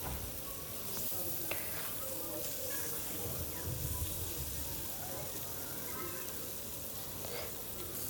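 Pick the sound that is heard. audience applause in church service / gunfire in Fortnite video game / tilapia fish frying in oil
tilapia fish frying in oil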